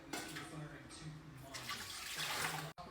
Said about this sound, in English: I always add 2 quarts of water to my canner.